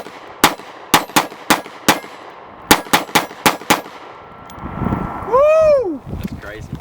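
Ten sharp, loud gunshots from a 22 TCM 9R pistol at a shooting range, fired in two quick strings of five with short pauses between, followed by a rumbling wind gust and a whistling, swooping tone.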